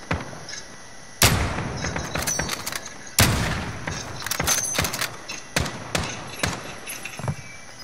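Repeated gunfire bursts from the video game Call of Duty: Modern Warfare, sharp loud shots in irregular clusters with a couple of heavy volleys, close and dominant with no talking.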